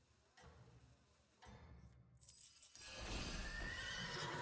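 A video game horse neighs and whinnies over the quick clip-clop of hooves, with other game sounds growing louder and busier toward the end and no talking.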